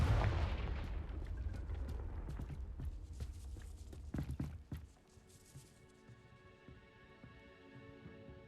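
A Confringo blasting spell in Hogwarts Legacy sets off a string of sharp bangs near a gatehouse. The blasts are fairly faint and come as several quick cracks over a dull rumble, then fade to a quieter tail.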